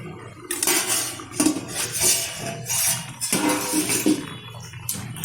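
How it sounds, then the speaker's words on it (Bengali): A metal lid comes off a cooking pot of katla fish curry with gathi kochu and potato, giving a few sharp clinks and scrapes in separate bursts, fairly close, with quiet stretches between them. "ঢাকনাটা তুলে দিচ্ছি।"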